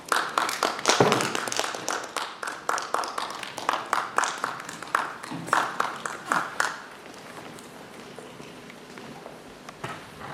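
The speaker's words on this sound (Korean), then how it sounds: "박수로 맞아주시기 바랍니다." An audience claps at a National Theater madangnori press conference to welcome the production team and cast, a brisk round of close hand claps that thins out and stops partway through.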